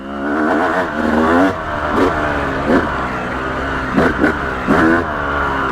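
A Yamaha YZ250 off-road dirt bike engine pulls in third gear, loud and close. It climbs repeatedly in rising revs, with short throttle blips and crisp mechanical clatter.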